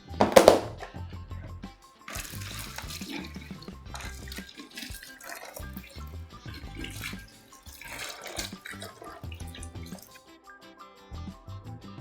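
Hot water runs and splashes into a mixing container, a steady faint trickle with a brief louder gush at the start and small drips throughout, with no voices.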